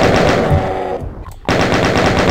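Chaingun in the classic video game Doom fires in fast, loud, rapid bursts, with a brief break before the firing starts again.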